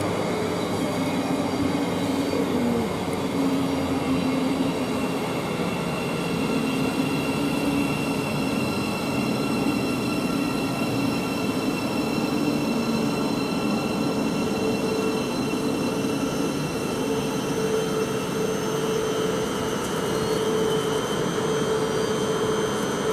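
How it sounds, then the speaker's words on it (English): A Bedford to Brighton passenger train pulls out of Luton Airport Parkway station, its steady rumble and rolling wheel noise sustained and fairly close, with a high whine running throughout and no talking. "Now we've got the Bedford to Brighton, the 1316 service is now leaving."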